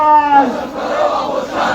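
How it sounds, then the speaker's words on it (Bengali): Students shout protest slogans at an anti-rape march in Dhaka, a loud crowd of voices chanting together in rising, drawn-out calls close by. "স্লোগান দিচ্ছেন শিক্ষার্থীরা।"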